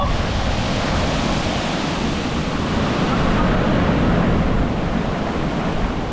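Strong ocean waves surge and crash in a continuous, loud roar of surf with no break across the whole stretch, wind noise mixed in close to the microphone.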